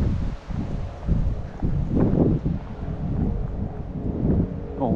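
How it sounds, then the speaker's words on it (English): Steady wind rushes and buffets a microphone outdoors, with rustling and low rumbling gusts throughout. "Windy streets."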